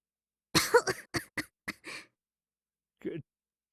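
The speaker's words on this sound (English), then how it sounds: "Stepping 1 foot inside is enough to make the both of us cough up a storm." Two characters in the Robotics;Notes video game cough from dust in a dark, windowless padlocked room: a burst of several rapid coughs, then one short cough after a pause, clear and close with no talking.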